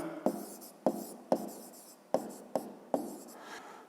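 Pen strokes scratch on paper while a fifth-grade math exercise is written out, six distinct taps and scrapes in a steady rhythm, close and clear with no talk.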